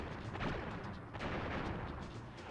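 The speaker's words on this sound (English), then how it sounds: "So Crash fires off the laser. And kablammy." Crash's laser fires in Crash Bandicoot 2, a loud rumbling blast with boom-like impacts that sustains for a couple of seconds, noisy and close with no talk.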